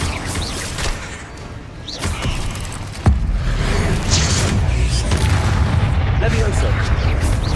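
Confringo fire spell explosions in the Hogwarts Legacy video game, with a sharp loud blast near three seconds amid constant booming combat noise and a speaking voice.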